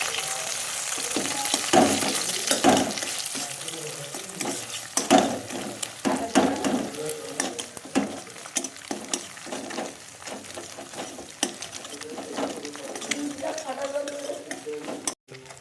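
Egg frying in hot oil for egg bhujia sizzles steadily under repeated scraping and stirring strokes of a spatula in the pan, close and fairly loud, with busy bursts throughout.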